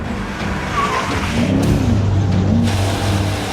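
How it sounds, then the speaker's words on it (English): BMW M5 drifting during a long-distance drift record attempt, a steady loud engine drone with tire squeal rising and falling over it, continuous and close throughout. "We have commenced drifting."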